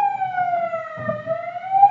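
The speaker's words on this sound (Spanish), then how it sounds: "justo ahora está pasando una ambulancia por aquí" An ambulance siren wails steadily and loudly, its tone drifting slowly down and back up as the vehicle passes close by in a village street, with faint low rumble beneath.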